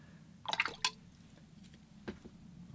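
Watercolor paint is splashed onto a winter snow scene painting, giving a few quick wet splats and drips close up, with two clustered hits early and a softer one later.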